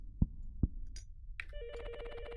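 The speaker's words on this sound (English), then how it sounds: "Phone's ringing." A telephone rings inside the pixel horror video game Love Eternal, an electronic warbling ring entering after two sharp thuds and repeating in quick pulses, fairly close and clear with no talking.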